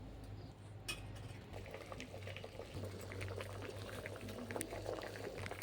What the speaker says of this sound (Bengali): হাতে মাখবো তো এই জন্য একটু সেদ্ধ করে নিচ্ছি